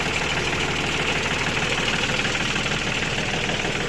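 Used 35 hp TLX farm tractor with its diesel engine running at a steady idle, a continuous loud rumbling drone with fine knocking texture and no talking.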